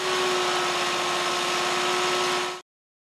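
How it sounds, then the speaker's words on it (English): The engine of a BigFoot BF300 baler compacting agricultural plastics drones steadily and loudly under load as the bale fills, a constant low hum with a sustained tonal whine, ending in a sudden cutoff. "As the bale fills and the plunger encounters more resistance, the engine begins to work harder and whines at a lower pitch."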